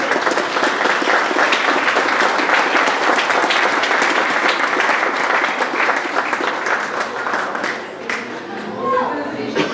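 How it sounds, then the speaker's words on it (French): An audience claps at a new school's inauguration ceremony, dense and loud applause running for most of ten seconds before easing off slightly near the end, with some chatter mixed in. "On applaudit encore."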